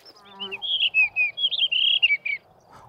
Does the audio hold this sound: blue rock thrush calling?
yes